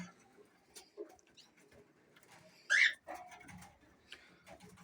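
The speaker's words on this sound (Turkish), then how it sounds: "Burada kendime ayırdığım damızlık kanaryalar. Burası da kanarya komple." Breeding canaries in a home bird room give faint scattered chirps and one louder brief call, sparse and quiet against a hushed indoor background.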